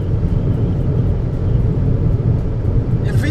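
A Volkswagen Vento with a 1.6-litre 105-horsepower petrol engine and six-speed automatic cruising, a steady low engine and road rumble inside the car, with a short faint chirp near the end.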